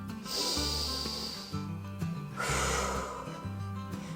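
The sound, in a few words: children blowing hard on a pencil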